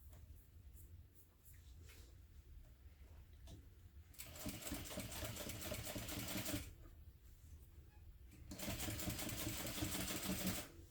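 Sewing machine running in two sustained bursts, about two and a half seconds each, as it top stitches a mini backpack with a 1/8 inch seam, with quieter handling noises between runs and no speech.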